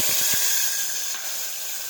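Chopped tomatoes hit hot oil already holding mustard seeds, cumin and asafoetida for a pea and potato curry, giving a loud, sudden hiss that fades into a steady sizzle.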